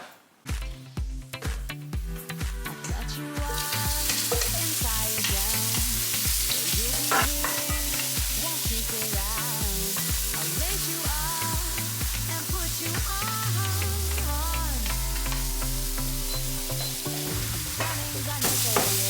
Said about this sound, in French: je vais faire saisir mes crevettes dans mon huile d'olive